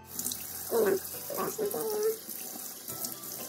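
Lukewarm tap water runs into a sink for washing the face, in several close splashing bursts with brief pauses, heard alone.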